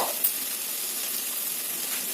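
Bottle gourd and sprouted chickpeas fry in a pan with a steady, even sizzle that holds unbroken throughout, close and moderately loud, no talking.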